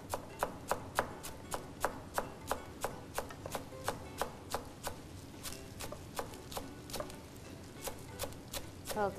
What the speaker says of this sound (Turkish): İnce ince soğanımızı doğruyoruz.